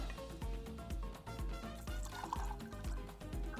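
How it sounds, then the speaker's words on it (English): A Cointreau cocktail pours into a coffee mug as a soft liquid trickle with faint drips, quiet and close, over a steady rhythmic music bed. "So we're going to pour this directly into our coffee mug."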